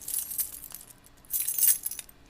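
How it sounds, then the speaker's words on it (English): Keys jingle against a half-full watering can in two bright bursts, the first longer and scattered, the second louder and denser, close and alone with no talk. "the jingling of keys colliding with a watering can, still half full"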